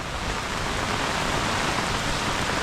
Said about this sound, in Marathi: आज दुसऱ्या दिवशीच एवढा तुफान पाऊस पडतोय